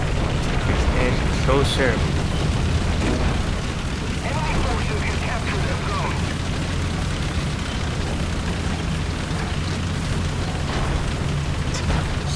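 Tank cannon fire and explosions in the War Thunder ground battle game, from a German StuG tank destroyer, as a dense, continuous rumbling roar of booms with a voice speaking over the din.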